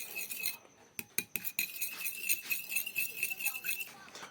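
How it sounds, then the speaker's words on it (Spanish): Three eggs with vanilla essence mixed in a bowl, with a utensil making rapid bright clinks and scrapes against the bowl, close and fairly quiet. "Acá están listos los 3 huevos con la esencia de vainilla y lo mezclamos"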